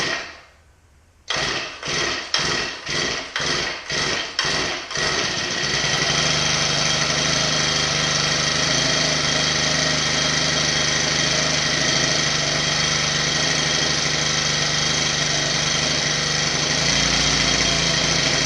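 Shindaiwa string trimmer with the choke on: several quick pull-start sputters, then the two-stroke engine catches and runs on at a loud, steady, high-pitched drone.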